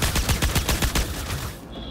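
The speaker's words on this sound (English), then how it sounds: "I hear gunfire." Rapid automatic gunfire in the Star Citizen video game sounds in a dense burst of about a dozen sharp, loud shots close by, then cuts off.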